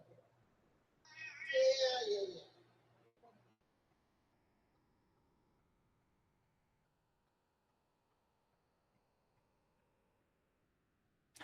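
A cat gives one drawn-out meow close by, lasting about two seconds, followed by near silence.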